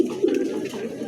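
A young Bullet Long Face pigeon squab coos steadily up close, a continuous low warbling murmur running through the whole moment with slight swells in volume.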